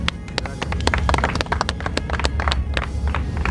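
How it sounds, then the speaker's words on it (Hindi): Applause from an audience at the opening ceremony of a Pakistani film, as dense, continuous clapping from many hands at a steady level, fairly loud and close. "दिलीप कुमार के साथ नाम की तालियां लगाएं आप"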